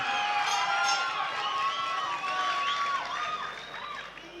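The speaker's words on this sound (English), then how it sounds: "Nice big roar there from the crowd." A boxing crowd roaring and cheering after the first professional round between two debutant fighters, a loud, dense wash of voices and whistles that slowly fades toward the end.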